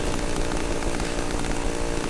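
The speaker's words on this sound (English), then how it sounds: "I know chainsaw and, like, Doom, really cool and all that, not a very effective weapon." Chainsaw wielded as a weapon in the horror video game Cry of Fear, a loud continuous buzzing engine roar that runs unbroken and close with no talk.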